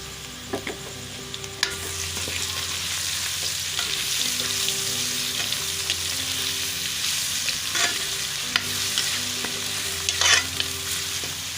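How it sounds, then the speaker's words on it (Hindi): Garlic ginger paste sizzles and fries steadily in a hot pan with fried onions, with occasional scrapes and clinks of a spoon stirring close by. "अब मैं ये लहसुन अदरक का पेस्ट शामिल कर रही हूँ"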